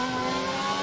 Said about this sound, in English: Man revs engine.